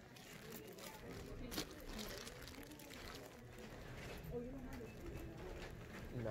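Pigeon cooing at a Stop & Shop store beside a Coinstar machine, soft repeated coos mixed into steady indoor clatter and background noise with some talk around it.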